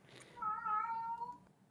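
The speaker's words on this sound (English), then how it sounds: "Apparently, we got a cat too." A cat gives a single faint, drawn-out meow in a quiet indoor room.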